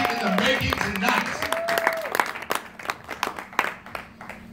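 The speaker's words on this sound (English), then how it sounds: "Please, give it a round of applause for the comedians you've seen." An audience at a comedy show claps for the comedians, a loud burst of applause. It comes in under a host's voice and trails off into scattered claps.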